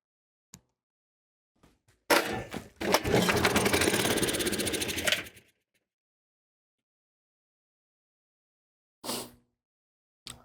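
An old Dennis engine at half throttle sputters briefly, then runs roughly for about three seconds before cutting out, with another short cough near the end; loud, close bursts separated by silence.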